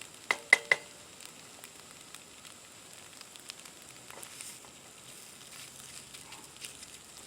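Food fries in a non-stick pan over a twig stove outdoors, giving a faint, soft sizzle with a few sharp scraping clicks at the start and occasional light taps and crackles afterward.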